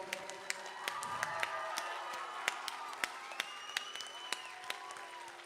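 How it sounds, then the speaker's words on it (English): Sustained applause from an audience at a Bharatanatyam arangetram recital fills the hall at moderate distance, with a few sharper individual claps and faint crowd murmur through it. "Could you please rise and give them an applause to match the rhythm of the last"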